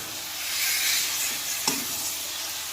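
Chicken coated in masala is stirred in a pot, a loud continuous sizzling hiss with one brief knock of the spoon against the pot partway through.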